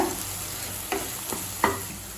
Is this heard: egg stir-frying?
yes